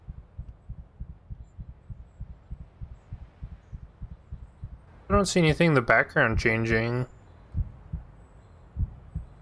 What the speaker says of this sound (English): And the heartbeat's still there?